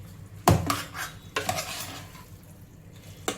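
A spoon stirs biryani in a metal pot, giving a few sharp scraping clanks against the sides followed by softer shuffling of rice, with a faint sizzle underneath.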